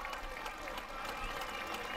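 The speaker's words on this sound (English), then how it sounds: "Big round of applause." A crowd at a beach surf-lifesaving ironwoman race at Newcastle Beach applauds a third-place finisher, the clapping faint and distant under steady wind noise.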